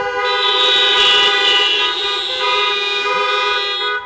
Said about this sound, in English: Honk if you agree.